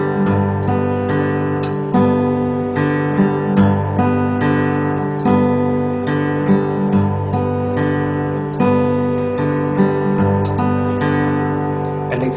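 Folk fingerstyle acoustic guitar pattern with the thumb alternating on the 6th string, a steady picked rhythm of bass notes and plucked chords played solo at moderate volume with no talking.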